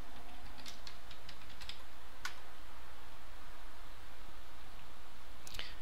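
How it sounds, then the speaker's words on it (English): A password is typed on a computer keyboard, with scattered close key clicks over a steady hum, a few quick taps followed by a short burst near the end. "type in your password"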